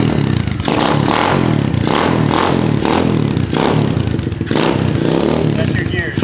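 A small 50cc semi-automatic motorcycle with no clutch runs close by, its engine chugging and clattering loudly throughout, with rhythmic bursts of revving.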